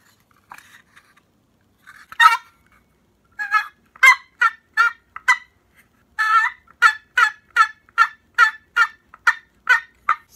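A handheld turkey call imitates a gobbling turkey, starting with a few tentative yelps and then settling into a steady run of sharp, rhythmic calls, close and loud with no speech.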